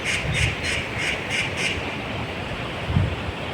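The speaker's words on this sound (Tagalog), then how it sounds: "Ayun, daming ibon." Several birds call in a repeated series of short, squawking notes over steady background noise in Taoyuan, Taiwan, with no talking.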